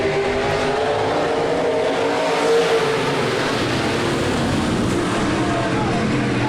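Race cars roaring around a speedway during a heat race, a loud continuous engine drone with rising and falling revs as the pack runs close together, with the distant crowd and announcer faint underneath.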